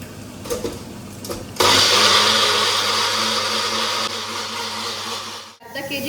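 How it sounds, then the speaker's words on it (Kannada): A kitchen blender whirs loudly, grinding ginger, garlic and green chillies with a little water into a runny paste, starting abruptly after brief handling noises and running steadily for several seconds before cutting off. "ಶುಂಠಿ, ಬೆಳ್ಳುಳ್ಳಿ ಮತ್ತು ಮೆಣಸಿನ್ಕಾಯಿನ ರುಬ್ಕೊಳ್ಳೋಣ."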